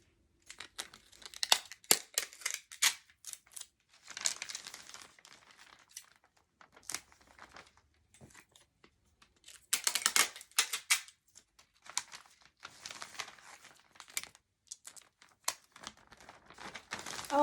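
Tape for a paper craft project is handled and torn in short, crinkly bursts of ripping and rustling, close and fairly quiet, with irregular pauses between them.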